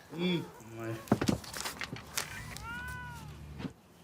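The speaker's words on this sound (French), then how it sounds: "Oh, vous avez un chat!" A cat in a home meows a few times, with short harmonic cries near the start and a longer wavering meow later, while people talk over it and faint footsteps shuffle nearby.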